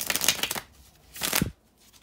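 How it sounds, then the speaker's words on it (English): Tarot cards are shuffled close by in two short bursts of quick papery riffling, separated by a brief quiet gap. "bear with me just a couple of seconds, guys, to shuffle the tarot cards"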